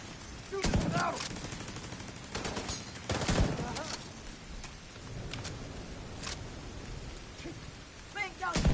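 Gunfire in the video game The Division 2 comes in loud, sharp bursts and volleys spread unevenly through the stretch, with a voice talking in between.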